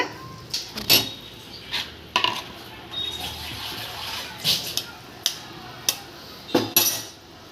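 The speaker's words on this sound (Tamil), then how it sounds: "இந்த சமயத்தில் முட்டையை உடச்சி ஊற்றுங்க" Clattering kitchen sounds: several sharp taps and clinks against a pot as an egg is cracked into simmering egg gravy, over a low simmering background.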